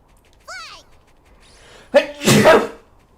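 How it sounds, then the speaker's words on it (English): A single loud, close sneeze bursts out near the end, preceded by a quick sharp inhale, after someone speaks briefly in a quiet room. "I gotta sneeze"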